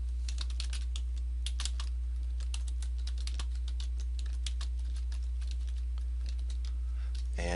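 Typing on a computer keyboard: a continuous, fairly quiet stream of fast, irregular key clicks, close by, over a steady low electrical hum.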